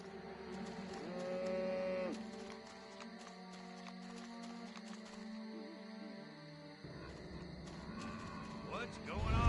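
Radioactive exploding zombie cows mooing in the Destroy All Humans video game, a couple of drawn-out moos over game music and effects, fairly faint, with a brief burst of noise near the end.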